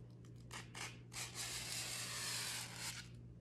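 120 grit sandpaper sands the ragged edge of wooden purfling. A few quick scratchy strokes are followed by a longer steady rub, close and quiet.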